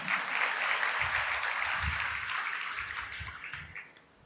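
A church congregation claps together during a live Sunday service, a dense, even wash of applause that holds steady and then tapers off toward the end, heard from a middle distance with no talk over it.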